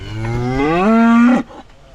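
A cow gives one loud, close moo lasting over a second, rising in pitch and then cutting off abruptly, heard in rural Kashubian-Pomeranian countryside beside a gravel cycling route, with no talk over it.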